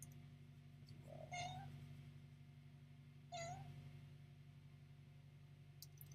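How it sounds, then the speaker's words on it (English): A cat meowing indoors: two short, close meows a couple of seconds apart, over a low steady hum of background noise. "that's my cat that's meowing like that"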